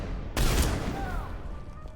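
Burst of gunfire in the Mass Effect video game erupts with a sharp blast, then rings out with whining, ringing tails as the shots fade over a steady background hum.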